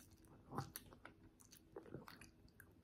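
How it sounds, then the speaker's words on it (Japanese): A young child chews food at a meal of croquette, shumai, tomato, miso soup and rice, with faint, close mouth sounds and a couple of soft bites. No one speaks. "ゆっくりね、もぐもぐしてね、"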